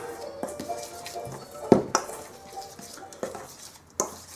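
A spoon scrapes and clinks against a mixing bowl as herbs and spices are stirred into a mixture for imitation KFC chicken, with scattered soft taps and one sharper knock, close and fairly quiet.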